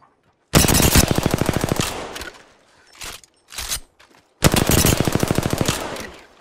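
Apex Legends gunfire: loud, close rapid automatic bursts in two long strings, with a few short shots in between and brief gaps of quiet.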